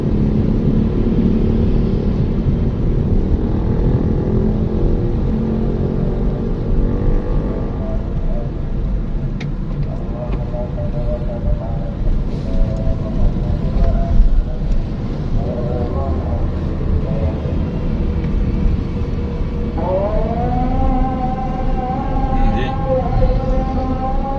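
Car engine idling around 1000 rpm with the air conditioning running, a steady low rumble throughout with someone talking over it and brief tonal whines near the end.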